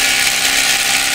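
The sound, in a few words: drill drilling into rock to mount hydro generator stand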